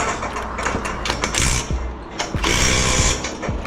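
A scaffold ratchet spanner tightens a fitting on a scaffolding build, close clicking pawl ratchets and metal knocks in quick irregular bursts.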